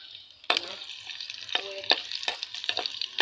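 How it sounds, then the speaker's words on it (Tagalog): Garlic dropped into hot cooking oil starts a close, bright sizzle that carries on throughout, broken by a few sharp crackles and stirring scrapes, with no talking. "Painitin muna natin and then lalagay na natin yung"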